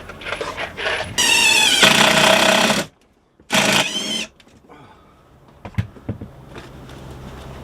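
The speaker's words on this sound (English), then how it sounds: "There's a metal beam where these screws are, so I'll put it into the metal in the back" A power drill drives screws through a cabinet into a metal beam behind it, two loud whining bursts separated by a pause, then quieter clicks, knocks and handling noise close by.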